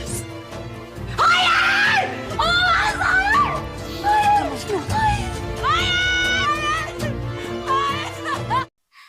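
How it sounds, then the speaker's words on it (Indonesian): A woman screams hysterically in a dramatic scene, loud, anguished cries with rising and falling pitch filling most of the stretch before cutting off abruptly. "Putri berteriak histeris."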